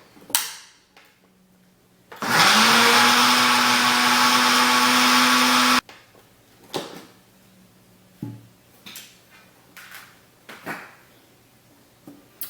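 A blender whirs loudly for about three and a half seconds while mixing homemade hand sanitizer ingredients, a steady high-pitched motor drone that starts and stops abruptly, framed by quiet clunks and handling knocks before and after.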